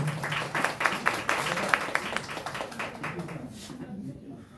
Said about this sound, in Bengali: হাত তালি দিয়ে ওনাকে একটু ওয়ার্ম ওয়েলকাম করতে চাই